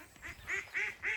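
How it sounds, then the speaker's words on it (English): Farm geese coming over to their pen give three loud nasal honks in quick succession, close by and clear against a quiet background. "Geese have come over."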